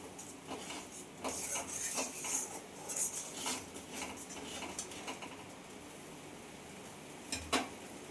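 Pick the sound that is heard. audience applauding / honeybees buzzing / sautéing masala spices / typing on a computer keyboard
sautéing masala spices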